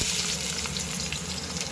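Onions hit hot oil with mustard seeds in a kadai for a brinjal stir-fry, giving a dense, steady, close sizzle with no talking.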